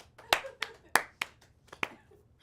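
A small group claps sparsely and irregularly during a show episode, about six sharp, distinct claps spread out over a couple of seconds, fairly quiet and close.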